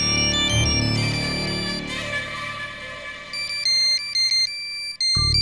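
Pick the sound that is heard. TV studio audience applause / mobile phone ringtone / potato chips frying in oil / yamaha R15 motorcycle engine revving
mobile phone ringtone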